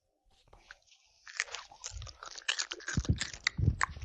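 Someone chews a big bite of a MrBeast Deez Nuts crunch bar up close, starting with quiet crunching and building to loud, irregular crunches with a few deeper thuds. No one speaks.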